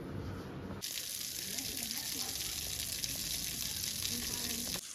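Water splashes and swishes steadily at close range as someone bathes, after a brief quieter start, forming a continuous wet wash of sound until it cuts off near the end.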